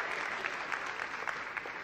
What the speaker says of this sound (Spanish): a los que aplaudieron